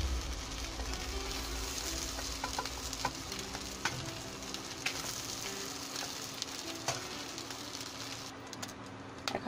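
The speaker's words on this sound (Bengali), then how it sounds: "এখন নিচের পিঠ ভাজা হয়ে গেলে আমি নামিয়ে ফেলবো। চিংড়ি ভাজা হয়ে গেছে।" Prawns frying in a pan for a Bengali prawn and tomato bhuna, a steady close sizzle with faint crackles and occasional clinks running throughout.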